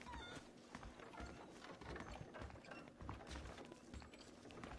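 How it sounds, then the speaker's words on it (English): A horse in Red Dead Redemption on PS5 gives a whinny, then its hooves beat in a steady clip-clop under loud game ambience. "Okay, let's see if you can still ride a horse."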